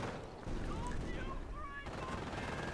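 A .50 cal machine gun firing in a war video game, sustained rattling automatic bursts, mid-distance and fairly loud, with other battle noise around.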